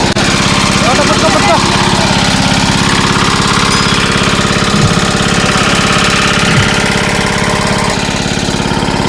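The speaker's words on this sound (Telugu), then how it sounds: "ఇప్పుడు మళ్ళీ ఇంజన్ స్టార్ట్ చేస్తాం." A small engine, restarted during a fishing trip on a pond, chugs loudly and steadily with a rapid, even knocking beat, close by, running without pause through the whole stretch.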